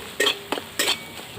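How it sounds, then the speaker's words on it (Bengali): Chili, black pepper and chaat masala stirred in a hot pan for a burger filling, three quick scraping strokes of a spoon against the metal over a faint background hiss. "মশলাগুলো একটু নাড়াচাড়া করে ভেজে নেব।"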